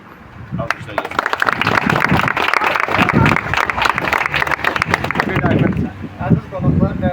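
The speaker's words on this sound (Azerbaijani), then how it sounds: "Alqışlar gəlsin." An audience at the opening ceremony of the Zeynalov Chess Club breaks into sustained applause, the clapping swelling and holding for several seconds with voices mixed in.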